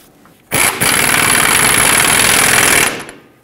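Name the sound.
power tool tightening control arm mounting nuts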